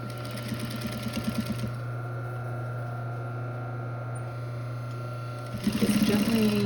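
Sewing machine fitted with a rolled hem foot stitching a fabric ear loop strip, a steady motor hum throughout with short bursts of rapid needle clatter at the start and again near the end.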